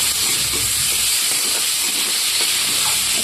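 Water poured into a hot pan of frying spices for paneer butter masala gives off a steady, loud broadband sizzle and steamy hiss that holds for the whole span, close up and with no talking.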